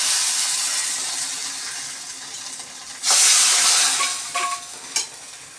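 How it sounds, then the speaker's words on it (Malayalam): Hot tempering hits a boiling spinach curry, starting as a soft steady sizzle and then flaring into a loud burst of crackling and hissing partway through, followed by a few sharp spits as it settles. "നമുക്ക് താളിച്ചത് നമുക്ക് ഇതിനകത്തോട്ട് ഇട്ട് കൊടുക്കാം കറി തിളച്ചതിന് ശേഷം"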